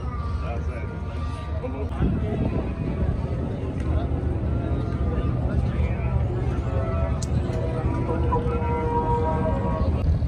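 Abra water taxi on Dubai Creek, a steady engine rumble and wash of water and wind heard from on board, continuous and fairly loud, with people talking over it.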